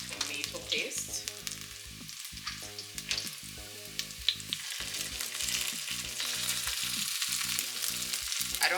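Spring onions and tomato paste frying in a pot, a faint, crackling sizzle under background music with occasional stirring sounds.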